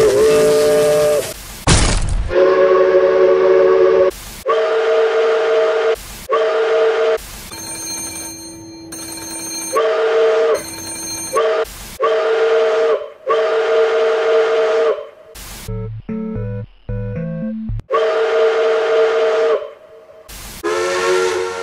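Pennsylvania Railroad #1361 steam locomotive whistle sounding in a string of loud, close blasts separated by abrupt silences, with a few brief unrelated tonal sounds cutting in between.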